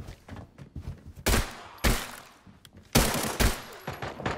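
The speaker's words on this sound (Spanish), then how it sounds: "Mucho disparo ya, que se armó" Gunfire in the video game Arena Breakout: scattered muffled shots followed by several loud bursts of rapid automatic fire, distinct cracks separated by brief gaps.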